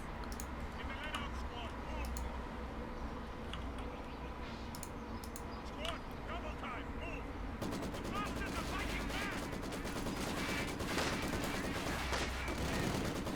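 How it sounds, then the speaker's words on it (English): A heavy mortar strike lands in the Company of Heroes 2 video game amid ongoing battle gunfire, the sound swelling into a dense, loud barrage of blasts in the second half while a voice talks over it. "in comes heavy mortar strike"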